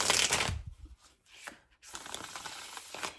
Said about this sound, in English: I don't know why I want to shuffle again